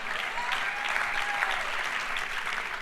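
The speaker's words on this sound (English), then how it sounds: "Give him a round of applause." Sustained applause from a room audience for a volunteer who has just been handed five dollars and sent back to his seat, a dense, even wash of many hands clapping close by for about three seconds with no voices over it.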